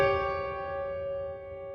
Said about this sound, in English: Now the tritone is an interval of 6 semitones or 3 whole tones, hence tritone, and in unison sounds like this.